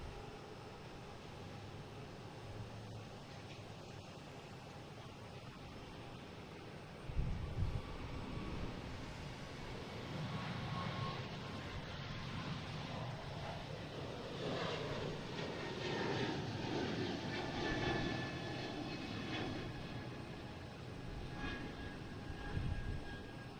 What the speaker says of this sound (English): a JetBlue heading to Denver.